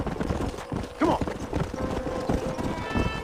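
Horse hooves clip-clop at a brisk gallop in the Western video game Red Dead Redemption, rhythmic and close, with a voice speaking over the hoofbeats.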